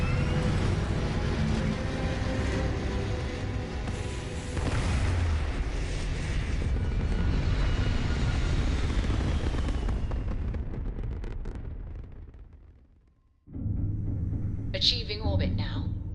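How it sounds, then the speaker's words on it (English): Spaceship thrusters fire during takeoff in Starfield: a loud, dense roaring rumble that holds steady for about twelve seconds, then fades out before a brief quieter tail with a higher whine. "All thrusters firing."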